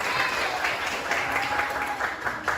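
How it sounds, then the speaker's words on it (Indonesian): A group of students applauds together in a university teaching-practice classroom in Indonesia. Close, uneven bursts of clapping pulse throughout, with voices mixed in. "Tepuk tangan bagi kita semua."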